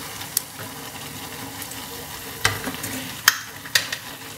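Thinly sliced bacon frying in a pan gives a steady low sizzle, with a few sharp clinks and scrapes of a utensil against the pan up close.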